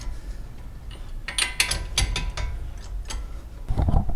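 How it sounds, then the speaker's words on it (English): A breaker bar works tight factory bolts on a Toyota Corolla hatchback, giving a series of sharp metallic clicks and ratcheting snaps in irregular bursts, fairly close and fairly quiet, with no talking. "Now I like to use this breaker bar."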